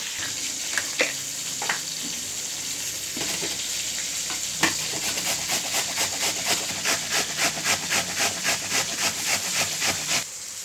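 Grated radish and chopped radish leaves fry in a pan, a steady soft sizzle with repeated scraping and stirring strokes that grow into a regular rhythm, close and fairly quiet.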